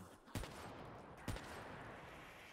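Two isolated gunshots in Black Ops 3 zombies, each a single sharp crack about a second apart, set over a steady ambient game background with no voices.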